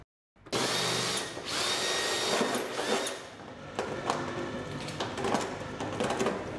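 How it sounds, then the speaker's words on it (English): Battery-powered drill boring holes for a solar-powered bottle light, a steady close whine with grinding bites and small shifts as the bit works through the material, no talking. "Make sure that you can get a battery-powered drill."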